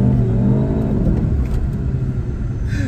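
A modified Skoda Superb with a swapped engine accelerating hard at full throttle in traffic, a loud, close engine roar climbing steadily in pitch as boost builds, heard from inside the car.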